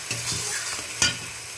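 Spice paste frying in oil for a rohu fish curry: a steady close sizzle with one sharp stirring scrape about two-thirds through, no voices.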